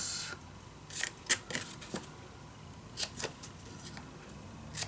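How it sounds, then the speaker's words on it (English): Scissors snip the corners off scrapbook paper for a mini album: a few short, crisp cuts come in quick clusters close by, with quiet pauses between them. "And then we cut the corners."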